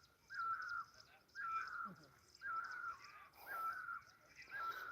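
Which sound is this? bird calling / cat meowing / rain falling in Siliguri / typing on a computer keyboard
bird calling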